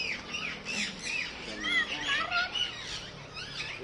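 Indian ringneck parakeet giving repeated harsh, shrill squawks and chirps in an outdoor setting, loud and close, calling continuously with no speech over it.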